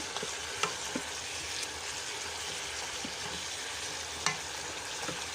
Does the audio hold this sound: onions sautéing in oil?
yes